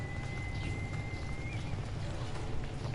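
Soft rhythmic horse hoof clops plod along at a walking pace in the video game Assassin's Creed Odyssey, beneath a low ambient hum and faint background tones.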